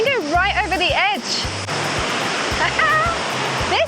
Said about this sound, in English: You're right on the edge of this waterfall.